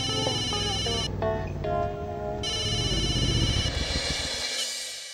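A phone ringtone plays on and on with a repeating melodic pattern, steady and clear, with nobody picking up.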